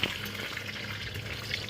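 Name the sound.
frying nuts in oil for poha pulao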